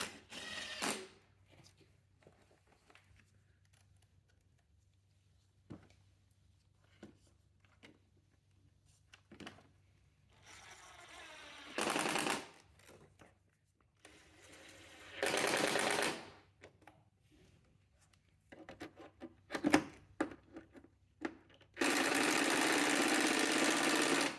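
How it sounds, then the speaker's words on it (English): Four T25 screws are driven into a fog light assembly on a 2012-or-later Tesla Model S, heard as several bursts of close whirring power-driver noise, some long and one sustained at the end, separated by quiet handling clicks. "tighten our 4 T25 screws that hold this into place"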